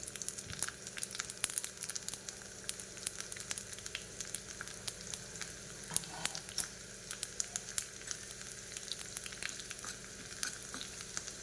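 Finely chopped garlic fries in hot oil with mustard seeds and cumin for a tempering, giving a steady close crackling sizzle with small pops throughout and no talking.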